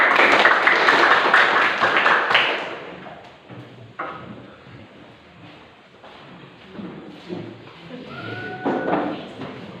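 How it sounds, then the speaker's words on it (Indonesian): A class of teacher trainees claps for the first discussion group after its presentation. A loud, dense burst of clapping fills the room for about two seconds, then fades into quieter room noise and scattered voices. "Mari kita berikan tepuk tangan untuk kelompok 1"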